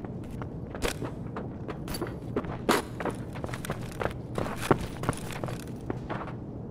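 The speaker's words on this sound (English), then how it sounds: "Just trying to listen to the footsteps." Footsteps in the shooter game Escape from Tarkov: a string of uneven, fairly close thuds and scuffs over a low background hum, with no voices.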